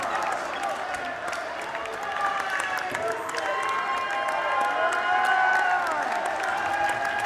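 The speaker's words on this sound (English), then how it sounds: "As you hear the hometown Buckeyes and their crowd pumped" A hometown Ohio State Buckeyes crowd cheers and claps at a dodgeball Final Four match against Cincinnati, a sustained roar of the arena with an announcer talking over it.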